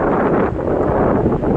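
Strong wind buffets the microphone while riding a motorbike on a trip to Parshuram Kund via Namsai, a loud, continuous broadband roar with no break.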